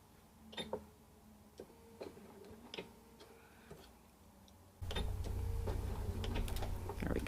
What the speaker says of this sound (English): Press our foot down, back stitch to the dot,